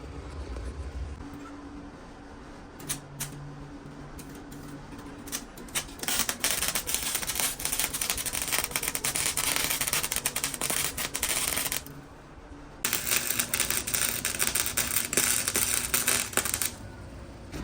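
A flux-core welder filling a hole in an old Honda Civic body, crackling and spitting in long continuous bursts with a short pause between runs, close and fairly loud.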